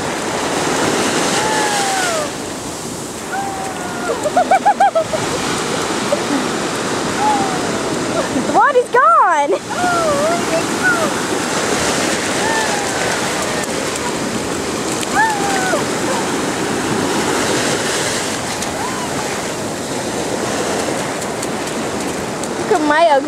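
Ocean waves wash onto a beach in Cuba as a constant, loud surf roar, with people talking and calling out close by over the water.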